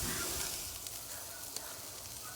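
Surf and turf sizzling on a Ñuke Delta grill, a steady close crackling hiss with faint pops and spits, continuous and alone without talk.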